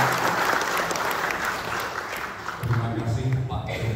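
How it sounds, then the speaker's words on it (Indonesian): An audience at an indoor gathering breaks into loud, dense applause, which begins to fade as a voice starts speaking over it near the end. "Kita tepuk tangan untuk Bapak Alam."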